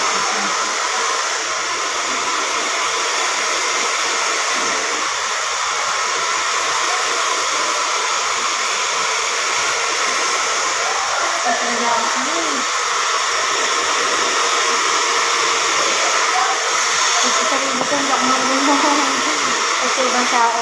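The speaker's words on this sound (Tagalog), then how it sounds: "try ko naman na blow dry" A hair dryer blow-drying freshly cut hair runs as a steady, close, continuous airy whir throughout, with no breaks and only faint background sounds.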